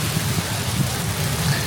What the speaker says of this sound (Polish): a teraz leje deszcz